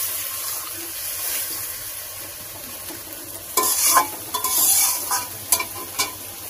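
Spice masala for a katla fish curry being stir-fried in a pan, with a steady sizzle that grows into loud bursts of scraping and hissing from vigorous stirring in the second half.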